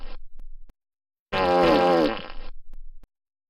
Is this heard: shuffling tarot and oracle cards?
no